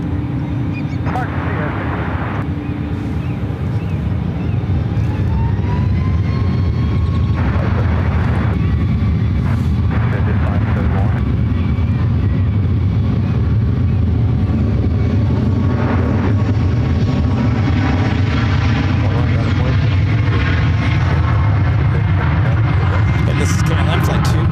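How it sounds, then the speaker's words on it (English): A six-year-old KLM Boeing 787-9 Dreamliner takes off from runway 1 right at San Francisco airport, heard as a steady, loud jet engine roar that holds throughout, with wind buffeting on the microphone. "heading back to Amsterdam. It's a 6-year-old 787-9 Dreamliner."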